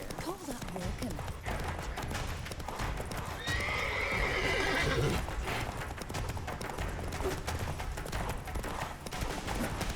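Roach, Geralt's horse in The Witcher 3: Wild Hunt, gallops with steady rapid hoofbeats and a whinny, close and loud, under game music while a player talks over it.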